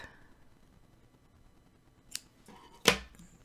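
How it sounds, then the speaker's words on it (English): Scissors snip black yarn during knitting and crochet work, two quick, crisp cuts close by, the second louder, in an otherwise quiet room. "Snip the black."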